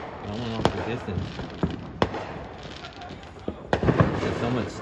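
Sharp Fourth of July firework bangs pop at irregular intervals over a continuous crackling background, with voices chattering throughout.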